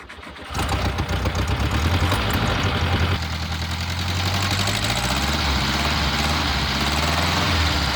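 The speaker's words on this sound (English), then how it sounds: "let me just go and start her up for you" A car's 1600cc liquid-cooled engine cranks briefly, catches with a loud roar and then settles into a steady, slightly uneven idle. The engine is close and heard alone.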